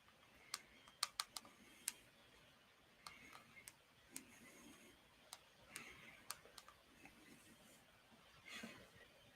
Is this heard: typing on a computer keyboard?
yes